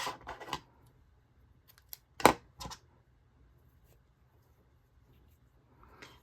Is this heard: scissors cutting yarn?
yes